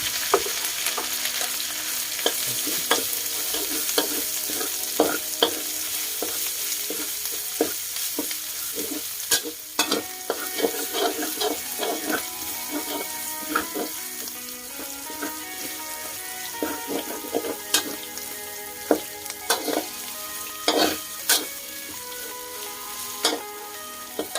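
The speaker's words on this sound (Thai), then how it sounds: "ก็นำพริกแกงลงมาผัดค่ะ ผัดพริกแกง ด้วยไฟกลา งๆไม่ต้องใช้ไฟแรงนะคะ" Thai red curry paste fries over medium heat in a wok beside pork belly, a dense sizzle punctuated by frequent sharp scraping and clattering strokes of a spatula, close and fairly loud with no talking.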